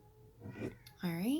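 Pet cats meow in a room during sewing, with a rising, drawn-out meow following brief talking by a nearby voice.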